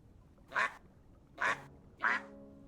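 Three short nasal duck quacks in the cozy building game Tiny Glade, evenly spaced and clear against a quiet background, with the last call slightly longer and more tonal.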